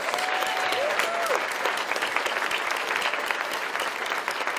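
Crowd applause for winning filmmakers at The Someday Awards 2015, a loud sustained wall of clapping that stays steady from start to finish, with a brief whistle-like tone near the start and no one speaking.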